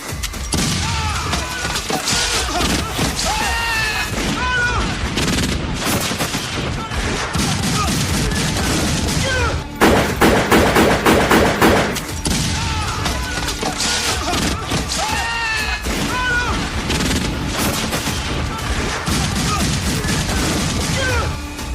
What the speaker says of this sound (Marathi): लागोपाठ दहा मिनिटे हा गोळीबार अखंडपणे सुरू होता जवळपास सोळाशे पन्नास राऊंड्स फायर झाले